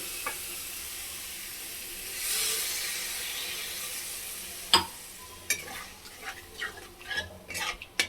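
Water poured into a pan of spice paste frying in oil for patal malai kofta, a soft hiss and sizzle swelling briefly, followed by clinks of a utensil and stirring scrapes close by.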